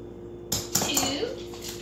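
A half-teaspoon measuring spoon knocks against a mug while melted butter is added for a gluten-free cinnamon roll, with a bright metallic clink and brief scraping, close and over steady background hum.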